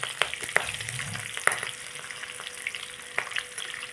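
Cauliflower, potato and peas fry lightly in a pan with a close, continuous sizzle, broken by a few sharp clicks and scrapes of stirring.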